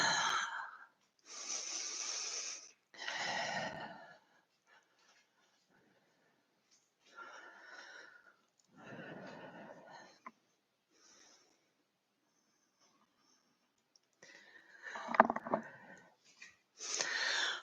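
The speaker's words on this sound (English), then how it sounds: "Close the eyes. Take a couple of breaths." Slow, deep yoga breaths in and out, a few long audible inhales and exhales separated by quiet pauses, close and alone.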